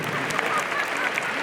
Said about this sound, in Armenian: Բարձր ծափարեք, ավելի բարձր ծափարեք